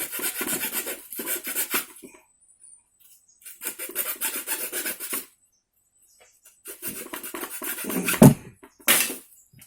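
Rasping, filing strokes on wood while widening a notch in a wooden kite spar, heard in three separate close bursts of rhythmic back-and-forth rubbing with silent pauses between them.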